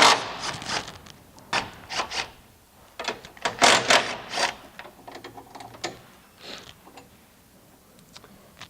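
Bolts being removed from a car's strut assembly fitted with custom camber plates: irregular metallic clicks, ratcheting and scraping, close and fairly quiet, coming in short clusters with pauses and no talking.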